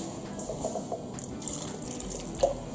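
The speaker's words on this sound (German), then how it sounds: "ich mache noch ein bisschen Wasser noch rein, damit jeder einzelne Hähnchenstück verdeckt ist" Water poured from a tap into a pot of chicken pieces for soup, a steady close splashing and trickling with small drips, no talking.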